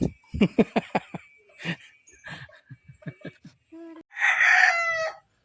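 A few clucks and short squawks, then a loud rooster crow rings out near the end, with a little voice and laughter mixed in.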